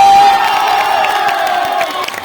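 A crowd at a school gathering cheers and shouts in a loud, sustained roar, with children's voices whooping through a dense wash of noise that slowly eases off.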